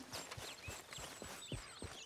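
Horse hooves in Red Dead Redemption 2 clip-clop in a steady trotting rhythm as the horse comes closer, several distinct hoofbeats over faint game ambience.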